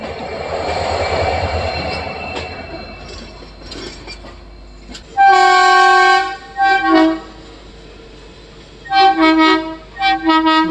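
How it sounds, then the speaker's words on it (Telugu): Samta Express (12808 Nizamuddin–Visakhapatnam) departing Vizianagaram Junction platform 2: rumbling wheels and engine noise, then loud sustained horn blasts, two in the middle and a pair near the end, no talk. "మన ట్రైన్ అయితే స్టార్ట్ అయిపోయిందండి విజయనగరం జంక్షన్ అండి"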